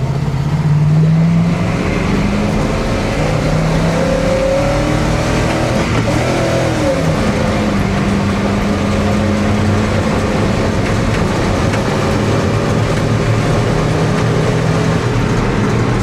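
A ZIL truck fitted with an American V8 accelerating hard from 0 to 60 km/h, loud engine roar climbing in pitch, dropping at each gear shift, then rising again over a steady rumble.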